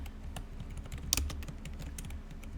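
Typing on a computer keyboard during a language lesson, a quick irregular run of soft, close key clicks over a low steady background hum.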